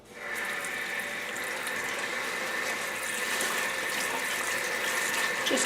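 Tap water runs steadily into a kitchen sink as escarole leaves are rinsed under it, a continuous close splashing hiss for the whole stretch with no talk.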